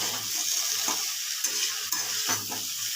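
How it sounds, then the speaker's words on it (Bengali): Medium-cut okra frying in a pan with a soft, steady sizzle, interrupted by a few scraping stirs of a spatula; fairly quiet and close, with no one speaking. "এবার ভেন্ডিগুলোকে একটু এইটা দিয়ে ভাজতে হবে"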